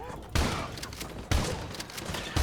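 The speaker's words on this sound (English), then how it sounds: "We're going to use the underslung shotgun for a hot second." An underslung shotgun mounted on a FAL battle rifle in Call of Duty: Modern Warfare 2 Remastered fires three heavy, booming blasts about a second apart, each followed by a ringing tail over background battle noise.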